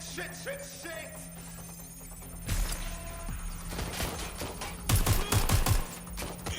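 Gunfire in the Watch Dogs Legion video game: scattered shots at first, then louder rapid bursts of automatic fire over a steady electronic drone, with a sharp cluster of reports near the end.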